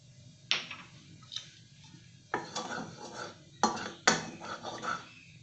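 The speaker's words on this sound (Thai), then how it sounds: "ตั้งกระทะค่ะ เปิดเตาใส่น้ำมันลงไปค่ะ" Metal clatter of a wok set on a stove as oil is added, a few separate clanks and scrapes with brief pauses between, close and fairly quiet, no voices.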